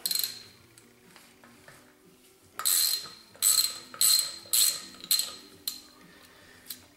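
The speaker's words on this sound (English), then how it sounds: "first thing I'm going to do is take this set screw out" A set screw being worked out of a stuck rotor hub gives a series of sharp metallic ratcheting clicks in quick bursts, close and fairly loud, with quieter mechanical rattling before them and no talking.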